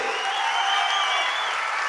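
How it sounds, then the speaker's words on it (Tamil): Sustained applause fills an auditorium at a Tamil birthday celebration event, a dense, even wash of clapping from a large crowd that holds steady throughout with no voices on top. "ஒரு அரங்கம் நிறைந்த மாபெரும் கைத்தட்டலுக்கு நடுவே"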